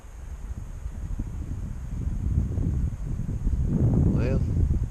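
Gusty wind buffeting a microphone beside the Broad River, a steady low roar that swells louder toward the end, with a voice briefly audible over it.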